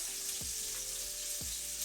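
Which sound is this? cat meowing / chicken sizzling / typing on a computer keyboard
chicken sizzling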